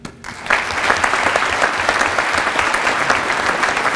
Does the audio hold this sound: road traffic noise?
no